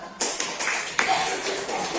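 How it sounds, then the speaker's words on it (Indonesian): A small audience in a classroom or lecture setting gives brief, sparse applause, a few close individual claps and taps that rise and fade over two seconds. "terima kasih untuk tepuk tangan"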